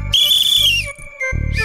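A single loud, sustained whistle in a Hindi children's fantasy show, holding a high steady pitch before dropping off, followed by a brief low thump.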